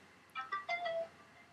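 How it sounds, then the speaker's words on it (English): A mobile phone ringing at home: a short, faint melodic ringtone of a few quick chiming notes ending on a held tone, over a low background hum. "Oh, my phone's going off now."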